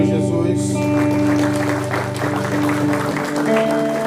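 A church congregation claps together through a worship service, the steady applause running the whole time beneath sustained keyboard or organ music and a voice.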